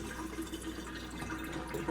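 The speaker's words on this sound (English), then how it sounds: "Just gonna rinse this off." Tap water runs steadily for about two seconds while something is rinsed off in a home kitchen during salad dressing prep, a continuous close splashing hiss with no talking.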